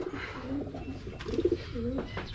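Pigeon cooing close by, a series of soft, throaty coos with a pause and then a louder burst of repeated calls, over low outdoor background noise.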